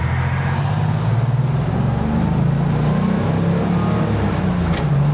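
The rear-mounted turbocharged flat six of a 1963 Chevrolet Corvair drones and climbs in pitch as the car accelerates on the road, with a steady, close engine hum and no talking.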